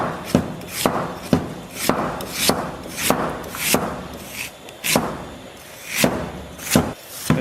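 A knife slices ginger into small pieces on a cutting board, about a dozen crisp, evenly paced chops, close and clear with no talking.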